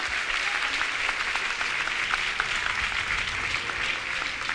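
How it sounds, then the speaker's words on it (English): Steady, dense applause rises from a church congregation giving a clap offering during a prophecy service in Trinidad and Tobago, sustained and even throughout with faint voices mixed in. "Let's give the Lord a clap offering whatever place you are."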